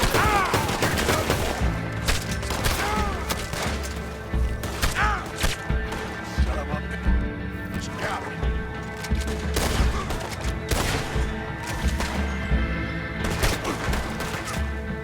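Gunfire in Red Dead Redemption 2 rings out in dense, repeated volleys of sharp shots and booms over the full stretch, loud and fairly close, with in-game voices and pained cries mixed in.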